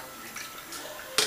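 A cup of 18% table cream is poured into a container, a soft close liquid trickle and gurgle over about a second, ending in a brief louder splash.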